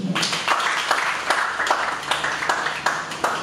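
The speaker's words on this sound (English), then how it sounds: "Please, an applause." Audience applause in a hall at a Nigerian business master class, a dense wash of many hands clapping steadily throughout, with a few sharper individual claps standing out.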